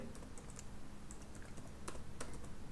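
Someone types a short name on a computer keyboard, giving quiet quick key clicks with small pauses and a louder tap near the end, like Enter, over a low steady room hum.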